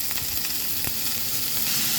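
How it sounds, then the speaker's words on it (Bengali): Pulao rice and green chillies hit a wok of fried ginger and garlic with very little oil, giving a steady, close, crackling sizzle with no talking. "আমি এখন দিয়ে দেব পোলার চালটা, আর পোলার চাল সাথে আমি দিয়ে দেব কাঁচামরিচ।"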